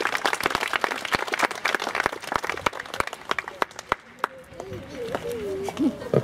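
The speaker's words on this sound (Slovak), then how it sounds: "Tak ešte jeden veľký potlesk pre pani primátorku." Applause and clapping from a crowd at the opening of a barrier-free children's playground, sharp dense claps for the mayor over the first four seconds, then fading into talk.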